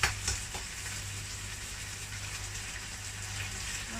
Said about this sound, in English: Now I'm going to add a little bit more oil and add the egg.